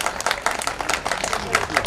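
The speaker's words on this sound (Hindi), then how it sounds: "जोरदार तालियां बजाइए एक बार।" Audience applause at a press club event honouring women journalists: a dense wash of clapping from a crowd, steady and close throughout the short burst, with no talk over it.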